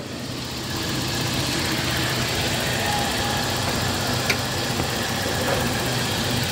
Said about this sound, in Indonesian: untuk suara mesinnya seperti ini, kondisi mesinnya ya